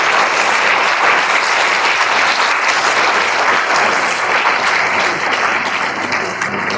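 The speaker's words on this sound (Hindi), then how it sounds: "एक बार जोरदार तालियों से" Loud, sustained applause from a large audience at a public gathering fills the whole stretch, dense and steady with no pauses and no speech over it.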